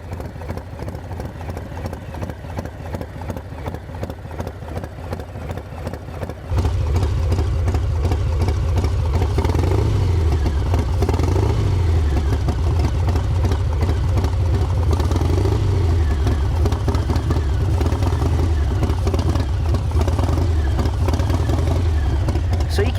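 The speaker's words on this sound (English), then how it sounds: "see if you guys can hear this thing sucking air" An S&S 55mm intake manifold on a motorcycle idles at first, then gets more throttle, and the engine rumble turns louder and steadier with a raspy intake suck that stays close and continuous.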